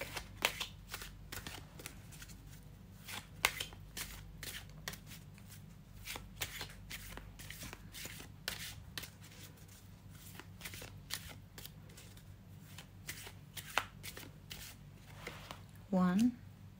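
An oracle card deck being shuffled by hand, a long run of quick, crisp riffling flicks close up and fairly quiet, steady throughout with a low hum beneath and a brief louder rustle near the end.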